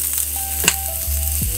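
A steak frying in a pan, an even close sizzle that continues for a brief moment, with a light clink partway through and no voices.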